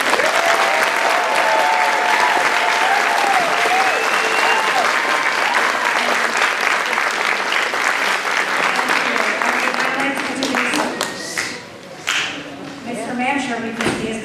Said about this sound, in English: And we have one more applause for our last